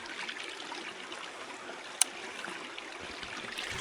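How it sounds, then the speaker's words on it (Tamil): Running stream water in the Madagascar outdoors gives a steady, soft broadband rush that continues throughout, fairly quiet, with one brief sharp click midway and no voices. "இப்போ பாருங்க, ஓடுற தண்ணி."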